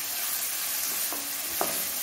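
Crushed garlic frying with onion in a pan, a steady bright sizzle throughout with a couple of soft spatula scrapes near the end, close and fairly loud, with no voices.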